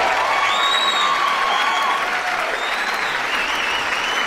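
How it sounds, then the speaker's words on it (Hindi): Steady audience applause from a crowd honouring a military group captain, dense continuous clapping with a few cheers and voices rising over it. "बहुत सारी तालियां"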